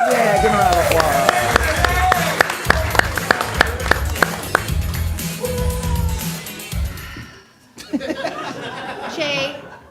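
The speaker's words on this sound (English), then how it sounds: "give him a round of applause" An audience at a live comedy showdown gives a round of applause, a dense steady patter mixed with laughter and cheering, with voices talking over it before it cuts off.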